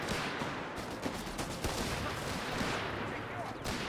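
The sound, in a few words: British infantry rapid bolt-action rifle fire, Company of Heroes 3 video game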